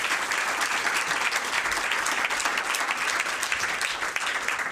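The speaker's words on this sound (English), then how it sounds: "Let's give Tanya another round of applause." An award reception audience gives a steady, loud round of applause, dense clapping that fills the room throughout without a break.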